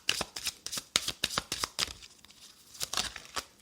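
Tarot cards being shuffled by hand, a run of sharp papery riffles and slaps in quick irregular bursts, close and clear, with a brief lull midway before the shuffling resumes.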